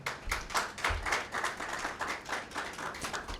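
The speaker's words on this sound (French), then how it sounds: "Je note que vous avez cette fois-ci applaudi sans même qu'on ne vous le demande." Applause from a conference audience at a French-language session: hands clap in an uneven, moderately paced rhythm, close and fairly steady for a few seconds with no voices over it.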